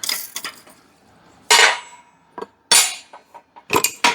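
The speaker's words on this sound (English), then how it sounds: "Let me see if I can knock the rest of the way out with a hammer." Sharp metallic hammer knocks driving a part out of an engine, a few spaced strikes then a quicker cluster, loud and close with quiet gaps between blows.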